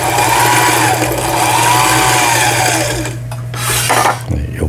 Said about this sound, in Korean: 옷감을 넣어서 박음질을 해보도록 하겠습니다.